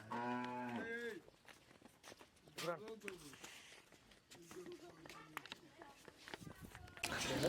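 Dairy cows moo several times, long low calls rising and falling, with people talking and shuffling nearby throughout.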